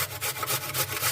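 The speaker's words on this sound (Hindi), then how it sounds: "आलू को हम कद्दूकस कर लेते हैं इस तरह" A peeled potato is rubbed against a kitchen grater in steady, rhythmic back-and-forth strokes, a close, continuous scraping and rasping with no talk over it.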